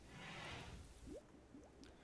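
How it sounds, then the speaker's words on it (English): Soft bubbling in the RimWorld video game as research is carried out: a faint wash of noise followed by a few quiet rising blips, like bubbles popping in a flask. "What's that bubbling sound?"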